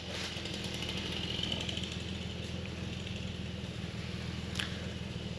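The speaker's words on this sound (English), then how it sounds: "I just heard the fan going into the radiator and it does not look good." A Jeep TJ with a cooked radiator idles after a hard climb, its engine a steady low rumble. A faint rapid ticking rides on top, like a cooling fan catching the radiator, and there is no talk.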